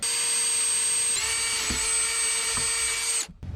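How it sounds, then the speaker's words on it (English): A high-pitched power drill whines steadily, drilling through a sailboat deck and a deck fitting, with a few small load changes, then cuts off abruptly near the end. "now I need to drill through the deck, right through this fitting"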